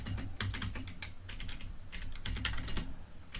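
Clicky keystrokes on a computer keyboard as a systemctl restart command is typed, a close, steady patter of rapid taps with brief pauses and no voices.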